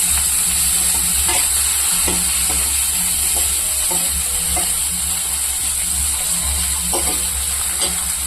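Thinly sliced green chillies sautéing in a pan for paneer fried rice, a steady close sizzle with a high hiss, broken by repeated scraping taps of a spatula stirring throughout, no voices.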